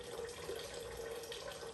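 Don Q rum being poured freely into a coquito mix, a steady liquid trickle running on without a break, fairly close and moderately loud.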